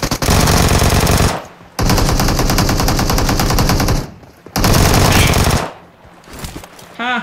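Vector SMG spray gunfire in PUBG Mobile, three long loud bursts of rapid automatic shots separated by short pauses, each burst cutting off abruptly.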